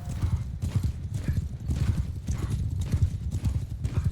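Horses galloping in Bannerlord during mounted combat with a Nordic unit, a steady rapid clip-clop of hooves close by with a brief whinny, continuous and loud for the whole stretch.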